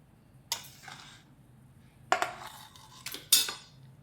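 Plastic spatula working flour dough in a bowl for nankhatai, heard as a few sharp scraping clacks against the bowl, four distinct bursts with quiet gaps between, close and alone.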